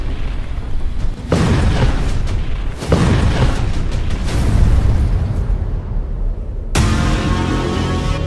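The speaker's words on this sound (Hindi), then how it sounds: "ये धमाका देखिए" A deep, heavy explosion at the Russian naval base of Novorossiysk, where a submarine is struck. Loud booming blasts and rumbling roll out in several waves, each starting abruptly and filling the whole clip.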